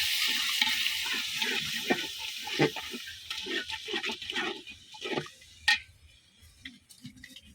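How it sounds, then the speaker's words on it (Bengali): A spice paste of turmeric, chili, coriander and cumin powder with a little water is stirred and fried in a pan, giving soft sizzling with irregular scraping stir strokes close by and no talk. "দিয়ে ভালোভাবে আমি মশলাটা কষাই নেব"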